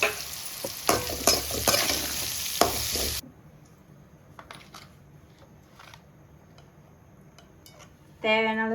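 Sliced bitter gourd drops into hot oil and is stirred in a pan, first a burst of loud sizzling with utensil scrapes, then quieter frying with light clinks and a brief rising squeal at the end.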